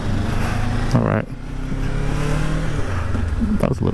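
A 2024 Kawasaki Ninja 500 KRT motorcycle engine revs up steadily through the gears, with a brief dip at a shift, heard close from the rider's position as someone talks over the engine.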